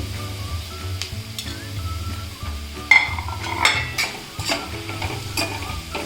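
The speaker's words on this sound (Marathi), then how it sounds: "आता चपातीचा चुरा टाकून घेते" Crushed chapati and peanuts being sautéed in a pan, with continuous close stirring and scraping, a light sizzle underneath and occasional clinks of the spoon against the pan, no voices.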